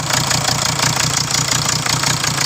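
A 2019 Hyundai Tucson D4HA engine runs with its oxygen sensor and exhaust removed, a loud, close, rough idle with a steady knocking pulse and a harsh buzzing exhaust note, with no voices.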